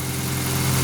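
A freshly rebuilt engine, with the head and block just reassembled, idles steadily with a continuous low mechanical hum, loud and close, with no voices.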